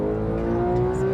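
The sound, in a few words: car engine revving to high RPM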